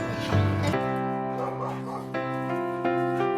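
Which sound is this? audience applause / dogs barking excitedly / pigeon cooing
dogs barking excitedly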